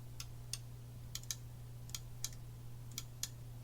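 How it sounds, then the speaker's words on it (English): A joystick clicks sharply in scattered single and double taps over a quiet, humming background during a ZX Spectrum Next game. "sorry if you hear the clicking of my joystick here. That might be kind of annoying"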